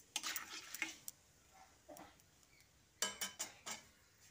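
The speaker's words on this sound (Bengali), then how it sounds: "তারপর ফোড়নটাকে কয়েক সেকেন্ড ভেজে নিচ্ছি" Panch phoron and whole mustard seeds frying in a little hot oil, faint crackles and light spoon taps against the pan in short clusters, quiet and close.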